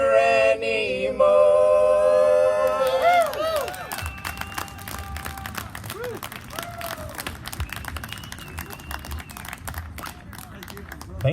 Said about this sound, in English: Nice clapping too.